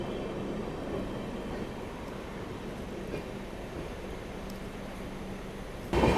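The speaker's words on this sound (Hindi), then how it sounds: "ओह भाई, लास्ट कोच भी निकल गया यहाँ पे तो इंदौर इंटरसिटी का" Indian Railways train ride in dense fog as the Indore Intercity's last coach passes, giving a steady rumble with a faint rail clatter and a sudden louder rush at the end.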